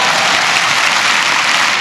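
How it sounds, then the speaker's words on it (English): Loud, dense clapping from an audience at a podcast taping in Redlands, a steady brief burst of applause with no voices over it. "give him a round of applause, man"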